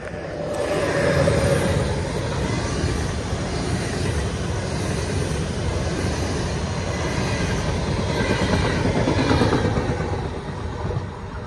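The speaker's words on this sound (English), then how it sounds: "I've seen 4 trains in the last 20 minutes." A train passes along a busy rail line near Zabcice in the Czech Republic, a loud, steady rumble with faint clacking of wagons that holds for about eleven seconds before easing slightly at the end.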